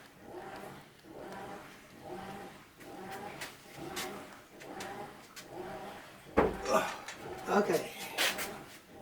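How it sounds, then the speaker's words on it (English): A nearly new washing machine on a wash cycle gives a rhythmic, repeating swish-and-thump pattern with a strange tone, moderately loud indoors, followed by a few louder clunks near the end. "That's the noise it makes when it's washing."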